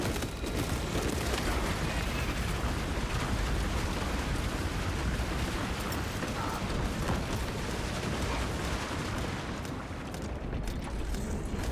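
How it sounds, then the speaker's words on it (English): Titan war machine firing its cannons in a Space Marine video game battle, a continuous roaring wall of blasts and rumble sustained throughout at steady high level. "The Titan fires."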